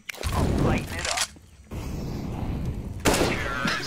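Rapid gunfire in a Counter-Strike: Global Offensive match, loud, dense bursts that pause briefly around the middle and then resume, with a sharp crack near the end.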